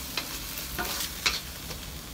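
Fried tofu and minced pork with oyster sauce being stirred in an oily pan, a constant sizzle punctuated by several scraping spatula strokes, close up with no speech.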